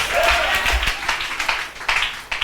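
A congregation at a French-language church service applauds and acclaims the name of Jesus Christ, with dense, sustained clapping and scattered shouts running throughout at steady strength.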